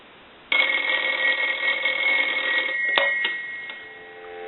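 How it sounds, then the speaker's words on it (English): A South American rotary telephone's bell rings loud and close in one long continuous metallic trill lasting several seconds, then cuts off and gives way to faint clicks and a quieter tone. "we're going to go ahead and ring the telephone"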